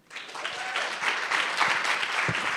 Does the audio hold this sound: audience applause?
yes